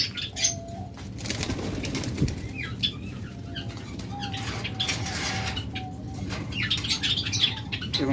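Pairs of ring-neck grey doves kept for sale flutter their wings in quick bursts, with soft cooing and a few faint chirps in a quiet setting and no talking.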